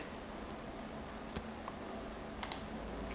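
Quiet typing on a computer keyboard, a handful of sparse, soft key clicks spread over a faint hiss with no talking.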